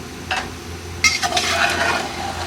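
Beef is stirred with spices and ginger-garlic paste in a pot for yakhni pulao, with a few scraping spoon strokes against the metal over a soft background sizzle, brief and close.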